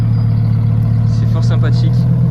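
A Mitsubishi Evo fitted with exhaust valves idles at a car meet with a deep, steady, rumbling burble close by, while people chat over it.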